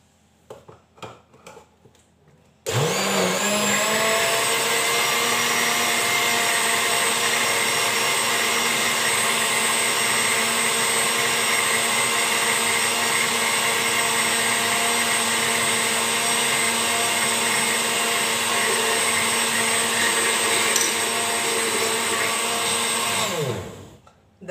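An electric mixer blends ingredients for a homemade sweet while oil goes in bit by bit, a loud steady motor whir that starts abruptly, runs unbroken for about twenty seconds, then winds down and stops, alone with no talking.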